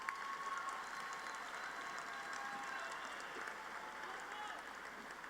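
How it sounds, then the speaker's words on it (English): Applause from a large crowd for baccalaureate graduates at a university commencement ceremony, a broad, even wash of clapping that holds steady and sounds distant and hall-like. "a round of applause from the baccalaureate graduates from University College"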